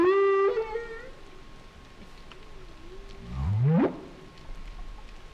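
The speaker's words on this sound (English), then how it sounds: "So this is one phrase of a humpback whale song." A single phrase of humpback whale song opens with low, droning moans rich in harmonics, then after a pause swells into a loud rising upsweep, with faint higher chirps scattered between.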